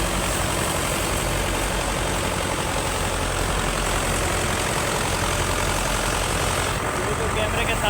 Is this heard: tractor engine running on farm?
yes